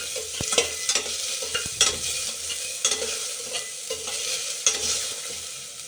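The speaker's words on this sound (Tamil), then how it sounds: "இந்த வெங்காயம் வந்து பொன் வறுவலாகிற அளவுக்கு லைட்டாக வதங்கணும்" Onions and dried chillies sauté in a pan for arisi paruppu sadam. A soft continuous sizzle runs under repeated spatula scrapes and taps that come every second or so.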